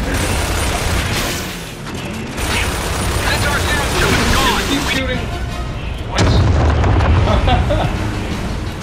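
Mortar fire in the Gears of War 2 video game, heavy booms and rumbling blasts running loud and continuous throughout, with shouted voices over the battle.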